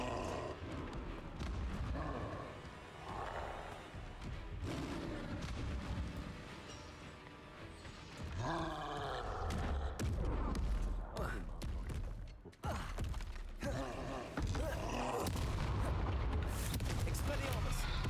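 Combat spells in Hogwarts Legacy burst and whoosh in a string of loud blasts and impacts, some sharp and some rumbling, with a player talking throughout.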